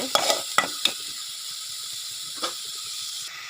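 Chopped onion dropped into hot oil in a pan for a banana flower thoran, with a few sharp crackles and spatters at first, then a faint steady sizzle close by.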